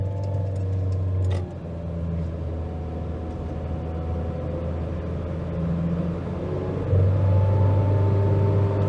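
Nissan Micra with a CVT gearbox driving and accelerating, a steady low engine drone and road rumble heard from inside the car, growing louder near the end.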